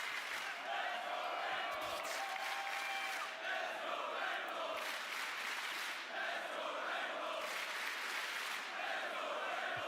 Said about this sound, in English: Thank you so much for the cheering.